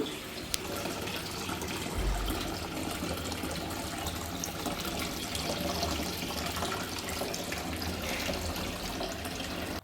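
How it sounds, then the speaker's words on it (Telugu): A decorative water fountain in the corner of a house in Qatar trickles and splashes steadily at a gentle, even level indoors, with no one talking. "ఇక్కడ కార్నర్లో ఉన్న వాటర్ ఫౌంటైన్ చూద్దాం"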